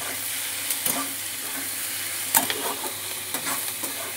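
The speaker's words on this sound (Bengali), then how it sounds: "মিশিয়ে ভেজে নেব।" Chili chicken stir-fried in a pan with a little sugar mixed in, a loud continuous sizzle broken by several sharp scrapes and knocks of a spatula against the pan, close up with no talking.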